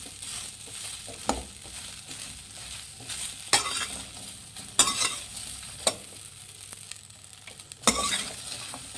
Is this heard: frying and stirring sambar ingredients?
yes